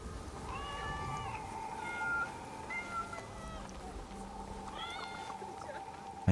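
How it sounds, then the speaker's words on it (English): A cat in Assassin's Creed, a historical game set in 1582, gives several short, plaintive meows over a steady ambient hum. A voice can be heard faintly in the background. "And kitties are just so freaking cute."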